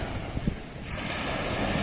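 Sea waves surging near the shore, a steady broadband wash with wind noise on the microphone, building slightly louder in the second half, with no voices.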